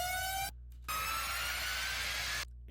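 A Sniperz riser effect from a future bass build-up rings as a bright, buzzy sustained synth tone, cut off by brief silent gaps, alone with no voices.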